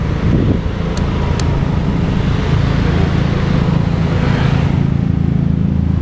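Road traffic idles and rumbles steadily at a city stoplight, a continuous low engine drone with faint motorcycle and car noise, a couple of brief high clicks near the start, and no talking.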